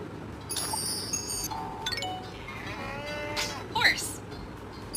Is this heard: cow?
yes